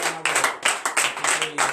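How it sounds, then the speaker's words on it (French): A church congregation at a Friday morning prayer service claps in acclamation, a dense burst of many hands in uneven repeated waves, loud and close, with a faint hum underneath. "Donnez encore de vive acclamation."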